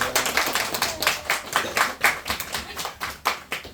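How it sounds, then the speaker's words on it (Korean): A church congregation applauds to welcome new believers, with steady, dense clapping from many hands close by and no voices over it. "우리 한번 큰 박수로 환영하겠습니다."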